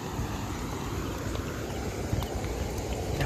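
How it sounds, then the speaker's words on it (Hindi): A loud river rushes near a village in the Kotdwar hills, a steady broadband roar of fast water with no break and no voices. "आवाज़ सुन सकते हैं आप नदी की, इतनी तेज़ आवाज़ आ रही है।"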